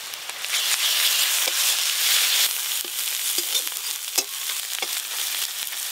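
Spices with turmeric, chili paste and browned onion frying in oil in a pan for a Bengali silver carp curry, a steady close crackling sizzle with scattered sharp pops and spatters, no voices.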